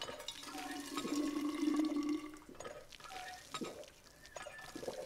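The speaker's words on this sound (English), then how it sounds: "Water should be right over here. And I can fill up my canteen." Water runs and splashes as a canteen is filled in the video game We Happy Few. Several short bursts of pouring and sloshing stand out against quiet game ambience.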